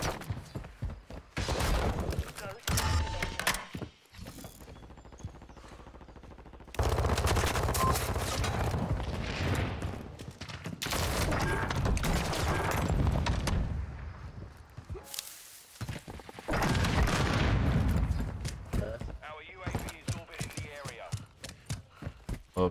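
Grenade explosions and gunfire in a Search and Destroy round of the Modern Warfare 2 video game, dense rattling shots and heavy bursts running nearly throughout, with players talking over the action.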